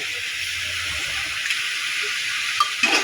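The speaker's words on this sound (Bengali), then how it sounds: "লবণ ভিতরে ভালোভাবে লাউয়ের সাথে মিশিয়ে নেব মিশিয়ে ঢাকা দিয়ে লাউ ভালোভাবে সিদ্ধ করে নেব" Bottle gourd mixed with salt and ripe green chillies is stirred in a pot before being covered, giving a steady sizzling hiss with a few soft scrapes and knocks toward the end.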